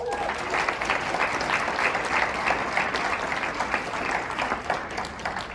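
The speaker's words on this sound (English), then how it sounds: "please give a round of applause for my departments" Sustained audience applause at a capstone event, many hands clapping steadily and loudly in a dense wash of sound throughout, with no voices standing out.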